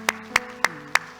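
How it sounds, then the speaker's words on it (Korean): Four sharp, evenly spaced hand claps ring out close and loud at a steady beat, coming from a church congregation clapping in unison after a sermon prayer. "우리 하나님께 영광에 박수합시다"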